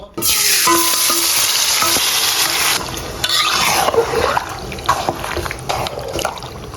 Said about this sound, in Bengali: গোস্তটা মেরিনেট করা হয়ে গেছে, এখন চুলোয় বয় দেবো।